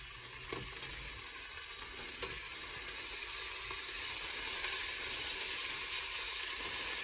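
Bite-sized beef pieces fry in a little olive oil in a warmed cooker, giving a soft, even sizzle that builds slightly over a few seconds, with a couple of faint clicks, heard fairly quietly.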